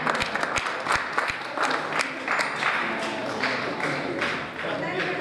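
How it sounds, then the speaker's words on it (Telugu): An audience claps to honour guests at a Telangana state conference in Huzurabad. Several sharp claps open into a dense, steady patter of applause that lasts throughout, with voices talking over it. "చప్పట్లతోటి చప్పట్లు కొట్టాలి."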